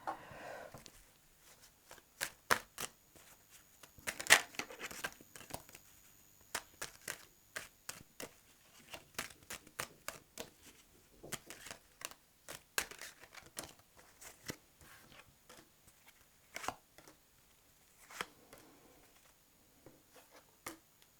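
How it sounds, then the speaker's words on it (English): Tarot cards being handled and laid out on a surface, a long run of soft, close taps, slides and papery flicks in an irregular rhythm, quiet throughout with no talk. "Let me just put a few more cards out."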